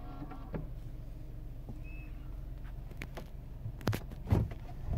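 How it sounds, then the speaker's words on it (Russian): The power side mirror of a 2011-era Hyundai Sonata YF folds with a faint motor whir, and a few soft clicks and thumps come near the end in a quiet car interior. "зеркало складывается"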